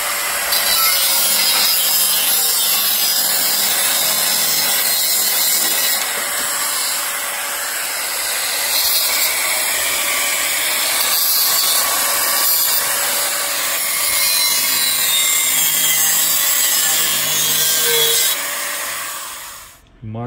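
A saw fitted with a metal blade cuts BMW E36 strut top plates in a continuous loud, harsh rasping grind lasting about twenty seconds, with slight shifts in pitch and pressure before it stops abruptly.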